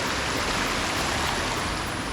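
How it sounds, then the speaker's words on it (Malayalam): A clear stream at Inchathotty in Ernakulam rushes steadily over stones, giving a dense, even wash of flowing water that stays close and constant throughout with no breaks. "വെള്ളത്തിൻ്റെ സൗണ്ടൊക്കെ ഉള്ളൂ, വേറെ ഡിസ്റ്റർബൻസ് ഒന്നുമില്ല"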